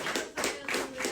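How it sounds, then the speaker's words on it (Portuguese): Church congregation clapping after a sermon, a brief burst of several overlapping hand claps close by, with no voices. "Uma salva de palmas que engrandece o nome do Senhor Jesus."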